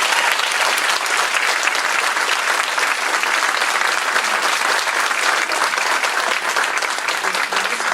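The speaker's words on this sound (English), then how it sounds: "would you please give them one round of applause?" Steady, dense applause from an audience at a campaign forum in Cedar Rapids, filling the room evenly and loudly for the whole stretch without a break, with no voices rising above it.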